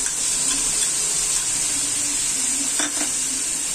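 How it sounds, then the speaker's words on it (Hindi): Spice paste sizzling steadily in a hot pan for chicken kofte, with a brief scrape of stirring near the end; a continuous close fry with no talk. "हम ये डालेंगे इसमें मसाले का जो हमने पेस्ट बनाया है"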